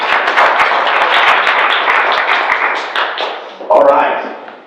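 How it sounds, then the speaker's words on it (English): A breakfast meeting audience claps in a dense burst of applause, loud at first and gradually thinning, ending with a few scattered claps. "give yourselves a round of applause for a great job"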